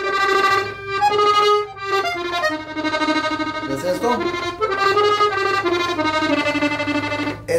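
An accordion plays a tremolo in a norteño song, rapidly repeating single notes in quick bursts that step through a melody, loud and close, with a brief spoken question over it.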